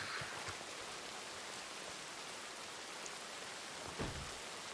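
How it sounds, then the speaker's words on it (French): Steady rain falls outdoors near bushes at night, a dense even hiss of drops with a couple of slightly louder patters, no voices. "J'aime bien la pluie."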